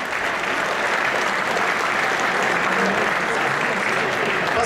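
Sustained applause from an audience at the King of Fighters XIII finals at Stunfest 2014, dense and even clapping that continues throughout at a steady level.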